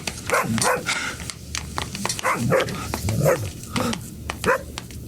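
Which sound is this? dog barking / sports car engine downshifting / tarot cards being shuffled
dog barking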